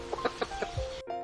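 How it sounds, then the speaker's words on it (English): A chicken clucks in a quick run of about five short, moderately close calls, followed by a brief sustained note, with no talking. "A chicken says cluck cluck."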